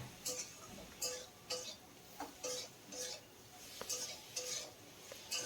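Sajne data drumsticks being stirred and tossed with turmeric and salt in a pot, giving a steady rhythm of close scraping and clinking strokes, roughly two per second, with faint sizzling underneath.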